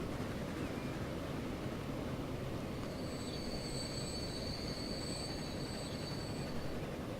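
A train in the Transport Fever video game rolls along its rails with a constant dense rumble, and a thin metallic wheel squeal rises partway through and lingers. No one speaks.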